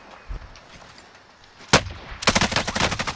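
Gunshots in Call of Duty: Modern Warfare: a single sharp crack, then a rapid string of close automatic shots following a moment later, loud and with no talking.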